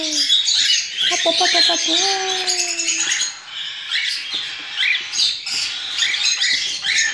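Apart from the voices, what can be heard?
baby lovebirds calling while being hand-fed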